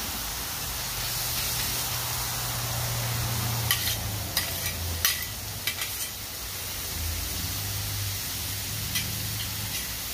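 Ground meat for an egg roll in a bowl fries in a pan with a soft, steady sizzle, broken by a few brief clicks and scrapes of stirring.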